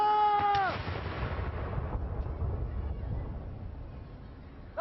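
A heavy artillery gun salute at Trooping the Colour 2017 in the United Kingdom: one booming blast rolls away into a long rumble, a shouted command rings out near the start, and another shot begins at the end.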